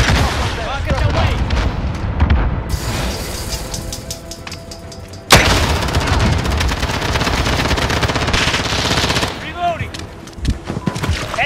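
Video game combat with a rocket launched amid constant loud gunfire and explosions, including a sudden heavy blast midway, while a voice speaks over the dense battle noise.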